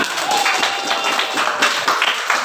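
Students in a classroom give a round of hand clapping, a continuous rapid patter of many pairs of hands, fairly close and even in loudness throughout.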